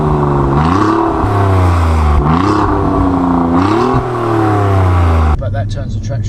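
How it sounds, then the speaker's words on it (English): A sports car engine revs hard three times in a row, each rise ending in a sharp exhaust bark. Loud and close, it then cuts off abruptly into quieter clatter. "This is how you get it to bark now."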